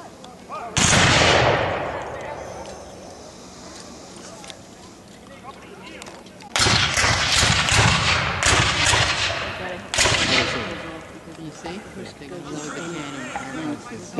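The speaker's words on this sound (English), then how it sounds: "firing by files from the right. That extends his line of fire so that each man fires in time successively" Muskets fired by files from the right by Civil War reenactors at a living history event: three loud, booming volleys with long crackling decays, each reaching well past the one before, and a voice talking between them.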